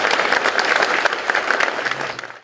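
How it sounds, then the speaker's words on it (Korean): Steady, dense applause from a church congregation at a memorial service for former president Park Chung-hee, filling the room evenly before tapering off near the end. "여러분 한번 박수를 부탁드리겠습니다"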